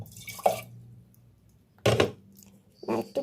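Hot water being prepared for tea in a home kitchen comes in three brief splashing, pouring bursts separated by quiet gaps, with a low background hum.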